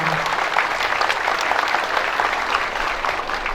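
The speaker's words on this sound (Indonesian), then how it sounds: "Tepuk tangannya mana?" A crowd at a school cadet inauguration ceremony breaks into loud, dense applause, continuous many-handed clapping from close by with no speech over it.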